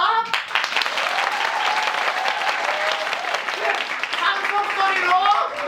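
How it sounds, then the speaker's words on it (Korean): A crowd at a Christmas tree culture festival on Gwangbok-ro applauds and cheers for a street performance, with dense, sustained clapping and whoops that continue steadily throughout, close and loud, with a voice calling out over it. "그럼 여러분들의 힘찬 박수와"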